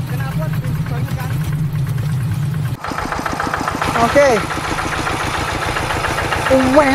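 A motorcycle engine fitted with a CJDW aftermarket exhaust chugs up close with a dense, pulsing rhythm, rising briefly in a couple of short revs, while a person says a word over it.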